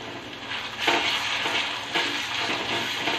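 Spice powders frying in hot oil for mutton intestine fry, a continuous close sizzle with a couple of brief louder bursts as the pan is stirred, with no talk.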